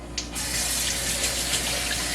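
Tap water runs in a steady, close gush into a kitchen sink as hands are washed between handling a raw chicken during cooking.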